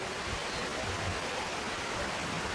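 Steady rushing water roars without pause, a dense even hiss from Rampa waterfalls in Rampachodavaram, heard from nearby.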